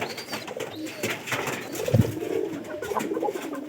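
Domestic pigeons cooing at a home loft, low soft coos with one stronger burst near the middle over faint background noise.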